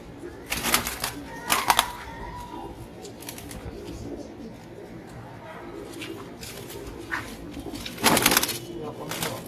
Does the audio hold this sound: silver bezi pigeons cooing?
yes